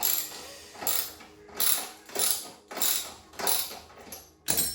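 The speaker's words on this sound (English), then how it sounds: "We'll check it over with a 10mm spanner, I think." Ratchet spanner clicking in repeated bursts while 10mm bolts are tightened on an Offspeed 48v 1200W brushless XL electric quad, about five close, loud rhythmic rounds of ratcheting with short pauses.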